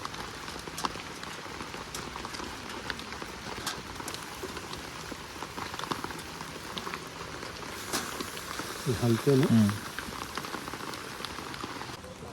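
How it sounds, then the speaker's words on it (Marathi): Steady rain patters on surfaces around a rainy campsite where chicken is being cooked over an outdoor wood stove, a continuous soft hiss with a brief short remark spoken over it. "पाऊस जरा कमी झाला"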